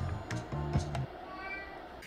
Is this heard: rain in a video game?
no